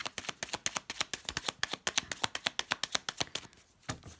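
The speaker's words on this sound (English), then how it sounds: "Okay, last shuffle." Rapid riffle of playing cards being shuffled, a quick run of crisp snapping flutters, close and fairly quiet, ending with a single short flick.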